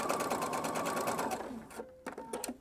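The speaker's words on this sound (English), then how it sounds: "And then I sew all the way around and just come back to the beginning point." Sewing machine stitching around a jacket piece, a rapid rhythmic whir that runs steadily, then slows into a few short bursts of stitches near the end.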